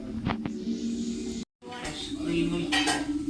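A utensil mixes food in a bowl, giving repeated clinks and scrapes against the side in an uneven rhythm, close by, with a brief gap midway and a voice murmuring underneath.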